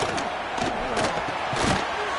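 Packed stadium at a Georgia versus Texas A&M college football game roaring on third down, a dense, loud wash of crowd noise with surging yells and a few thumps, continuous throughout.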